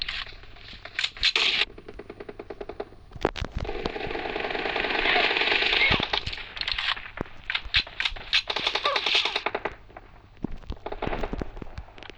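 Gunfire in a Free Fire battle-royale mobile game match, a loud, dense stretch of rapid shots and bursts that runs nearly without a break over a steady game engine hum.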